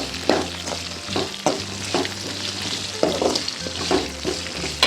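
Cumin, fennel, cinnamon and black pepper sautéing in oil in a pan on low heat: a steady close sizzle broken by regular scraping strokes of a spoon stirring the spices, no voices.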